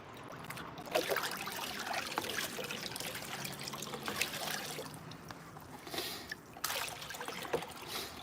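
Dirty, muddy water trickling and splashing steadily through a sluice box outdoors, a soft continuous flow with small splatters, fairly close and moderately quiet, no talk.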